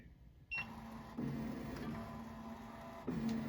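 A Ricoma MT1501 embroidery machine runs its design trace, giving a steady close mechanical whir with a faint whine and a few clicks as its motors shift position, and nobody talks.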